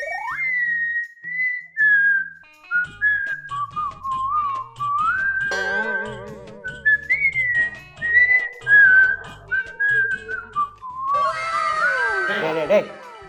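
A person whistles a melodic tune, clear and close, with sliding pitches and warbles, alone at first and later mixed with shrieking, cat-like vocal effects.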